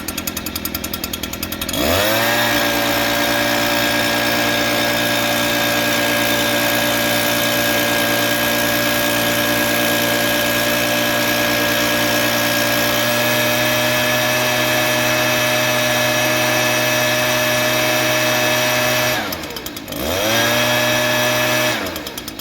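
A Stihl BR-200 backpack leaf blower's small two-stroke engine runs steadily at high revs with a buzzing drone, briefly dipping in pitch twice as the throttle drops and rises.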